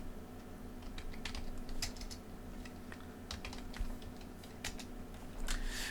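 Keys clatter on a computer keyboard as a folder name is typed, quick bursts of taps with short pauses, close and fairly quiet over a low steady hum.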